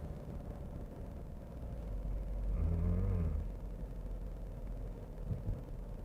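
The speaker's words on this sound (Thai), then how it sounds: "ขึ้นไปที่ 70 กิโลเมตรต่อชั่วโมง แล้วก็ จะยกคันเร่งเพื่อที่จะฟังเสียงดูครับ" Mazda 3 car coasting at about 70 km/h with the accelerator released, a steady low road and engine rumble that swells briefly in the middle, with no talk.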